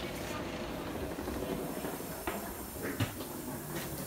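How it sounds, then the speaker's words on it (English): A Bulgarian slow train headed for Vidin and the Danube rolls along its tracks: a steady, moderately quiet carriage rumble and hiss with occasional soft clicks and knocks. "I like riding on a train where you can just look back at receding tracks"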